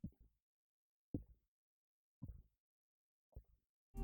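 Short bursts of audio in a mix left in full stereo, producing a phasey, hollow effect: four brief, thumpy low-pitched hits spaced about a second apart with silence between them.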